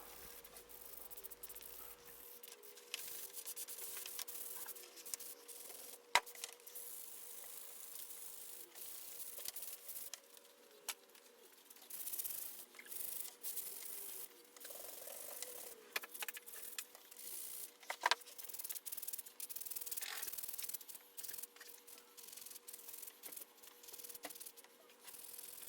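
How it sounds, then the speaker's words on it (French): A Louis Vuitton leather strap is sanded and cleaned with quiet, close, scratchy rubbing strokes repeating irregularly throughout, with no speech. "ce ponçage peut ressembler à celui du bois"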